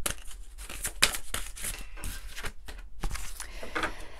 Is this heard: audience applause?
no